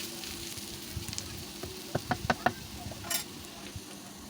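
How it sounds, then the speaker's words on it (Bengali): Beetroot fries softly in a pan, with light sizzling under a few sharp clicks and scrapes of stirring. "দেখতে দেখতে ভাজাটাও আমার শেষের পথে"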